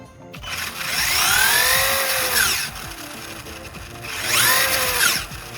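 A Traxxas E-Revo electric RC car revs its motor in two rising and falling whines, the first long and the second shorter, loud and close with no talking.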